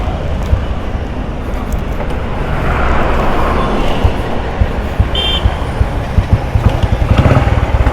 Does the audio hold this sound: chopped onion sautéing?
no